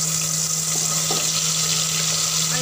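A steady, dense sizzle fills the whole stretch as julienned ginger and ground spice paste fry in hot oil in a kadhai. Faint scrapes and clinks sit underneath.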